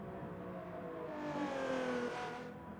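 A race car engine in a sim racing game drones steadily, its pitch climbing as it revs up mid-way, then easing slightly, loud and continuous on its own.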